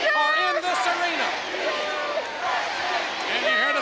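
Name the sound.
capacity arena crowd cheering at a wrestling event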